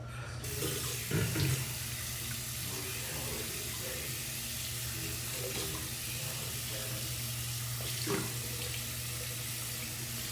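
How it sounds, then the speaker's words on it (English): Water running steadily from a tap for rinsing at a sink, a continuous hissing splash throughout with slight changes as hands move under the stream, close and even in level. "Let me rinse this off."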